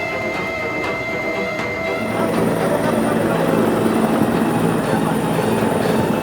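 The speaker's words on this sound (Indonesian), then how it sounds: "pesawat dievakuasi dengan cara diangkat menggunakan helikopter Kamov dari distrik Kenyam menuju Timika" A Kamov helicopter airlifting a damaged aircraft from Kenyam toward Timika makes a loud, continuous rotor and engine roar that swells slightly after the first couple of seconds and then holds steady.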